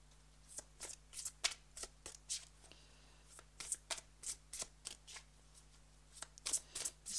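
Oracle cards being shuffled by hand during a reading, a series of crisp riffling swishes in an irregular rhythm, close and fairly quiet against a faint steady hum.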